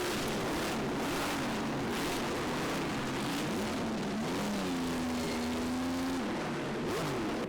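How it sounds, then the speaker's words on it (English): A Ferrari Indy car followed by a Lancia Ferrari racing car roar past at a hillclimb-style festival, engines droning and revving with a rising and falling pitch, loud and continuous throughout. "Indy car, Ferrari Indy car that Everett Lauman's driving, followed by the Lancia Ferrari of the Bamfords there"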